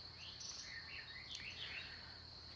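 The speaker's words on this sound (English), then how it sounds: "The birds are nice" Birds chirp and trill faintly outdoors in a steady series of short, warbling calls over a constant high insect-like hiss and low background rumble, with no talking.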